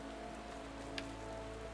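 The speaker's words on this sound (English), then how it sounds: "Especially since it's raining." Steady soft rain falls in Final Fantasy XIV, a faint, even patter with a low hum beneath and one brief tick near the middle, and no voices.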